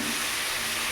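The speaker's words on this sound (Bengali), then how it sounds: "এটাকে হালকা চিংড়ি মাছটা ভাজবো" Shrimp fry lightly in a pan, a brief, even sizzling hiss heard close up and alone, with no voices over it.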